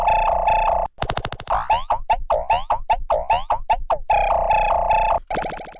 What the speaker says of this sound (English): It sounds like a reverse Slinky or something.